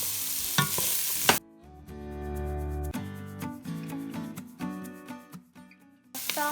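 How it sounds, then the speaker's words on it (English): Okra hits a hot pot of peppers and carrots and sizzles, with a spoon stirring and scraping in bursts; the frying hiss rises and falls with the stirring. "We're gonna add the okra."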